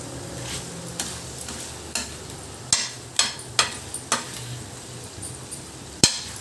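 Mutton eral fry stirred in a pan with coriander, a steady sizzle of frying under a string of sharp metal spatula scrapes and knocks, clustered irregularly near the middle and one more toward the end.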